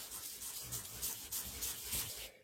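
Ink is rubbed onto a stamped art journal page in quiet, close, repeated scrubbing strokes with a soft, rhythmic rasp. Nothing else is heard.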